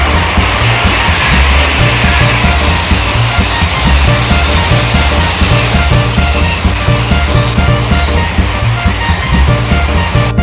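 Race cars lapping a motor racing circuit, a loud, continuous engine roar with a pulsing rhythm as cars pass close by, no voices.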